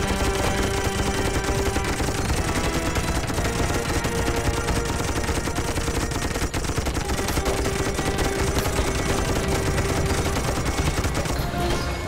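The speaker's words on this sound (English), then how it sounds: "Pump it full of rounds." Dense, continuous machine-gun fire from the Toy Soldiers video game, loud and relentless with overlapping gunshots and battle noise throughout.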